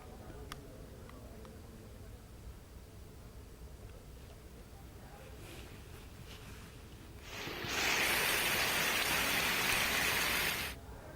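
Heavy monsoon rain falls in Mumbai as a continuous hiss that swells into a louder, denser downpour for a few seconds before easing back.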